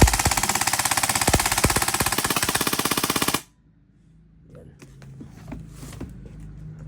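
An LT Archon 14-inch airsoft AEG rifle fires a rapid, steady full-auto burst of about three seconds close to the microphone, then stops, leaving quiet room noise.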